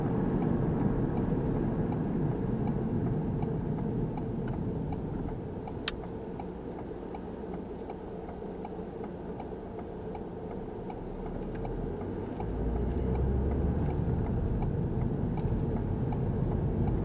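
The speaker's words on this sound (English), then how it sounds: "Our right signal ticking away" A car's right turn signal indicator ticks steadily and quietly inside the cabin while approaching a roundabout on the A454/A463 in Wolverhampton, a faint regular click over constant road and engine rumble.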